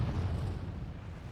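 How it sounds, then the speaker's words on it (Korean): Deep, continuous rumbling roar of a volcanic eruption spewing lava and ash, a heavy low boom that fills the short stretch without letup and fades slightly toward the end. "화산 폭발로 분출된 용암과 화산재가 길을 만들어준 덕분이다."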